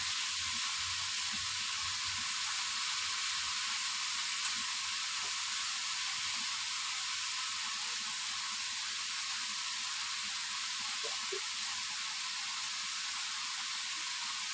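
Chopped khesari greens frying in a hot pan, a steady even sizzle and hiss that holds for the whole stretch with a few faint clicks underneath.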